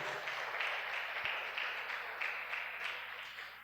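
Applause from a church congregation during an evangelical service, a sustained wash of clapping at moderate distance that slowly fades toward the end, with no voices over it.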